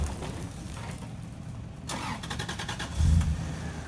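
A supercharged manual car drives along a rough track with rocks, its mid-pitched engine rising and settling between gear changes, a brief louder surge near the end.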